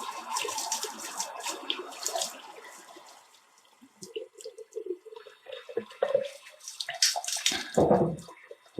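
Tap water runs and splashes over a graphics card being washed, a steady close gush that thins out midway and then returns with louder splattering and dripping.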